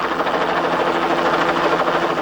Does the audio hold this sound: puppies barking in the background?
no